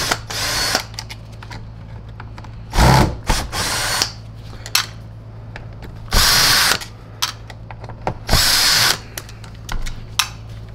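A power drill whirs in short bursts as screws come out of a SEBO ET-C vacuum cleaner power nozzle, with several distinct spins separated by pauses and small clicks of handling.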